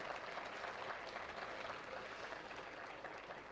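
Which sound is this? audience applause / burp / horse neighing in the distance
audience applause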